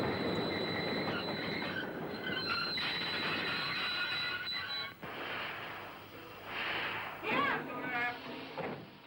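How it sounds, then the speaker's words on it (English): Train pulling away in a 1953 Fellini film scene, with rumbling wheels, rattling cars and squealing metal swelling and fading over about nine seconds. "As the train pulls away, the camera doesn't stay with Moraldo."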